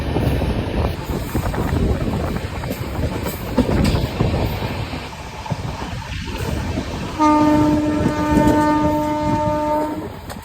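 A non-stop Jabalpur Express train rumbles and rattles along the track at close range, with a long steady horn blast sounding over the noise near the end.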